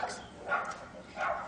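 Several dogs bark in short, moderately loud bursts, three yaps spread over a moment, heard indoors with no speech over them.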